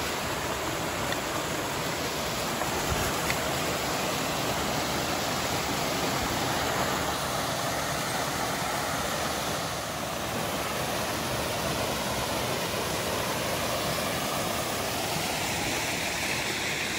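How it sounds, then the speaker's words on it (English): Continuous rushing water of a stream, broad and steady like a small cascade, filling the background evenly with no talking; on the Kelly's Run trail near Holtwood, Pennsylvania. "Here's a nice water feature."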